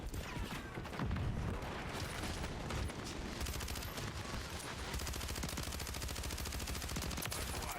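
Rapid gunfire in the video game Call of Duty: Warzone, with dense automatic bursts and sharp shots layered together, loud and continuous, the firing getting steadier and more rhythmic toward the end.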